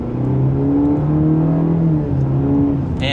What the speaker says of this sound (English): in terms of its power for this turbo engine, let's give it a slight acceleration.